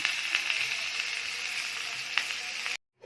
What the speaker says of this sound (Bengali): এই তেলের মধ্যে আমি এঁচোড়টা ভেজে দেব। সামান্য একটু হলুদ দেবো, দিয়ে একটু ভেজে নেব।